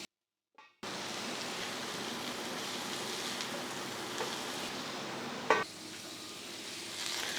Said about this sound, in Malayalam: ഇപ്പോൾ നല്ലതായിട്ട് ഇളക്കിയിട്ട് ലോ ഫ്ലെയിമിൽ അടച്ചു വെച്ച് വേവിക്കണം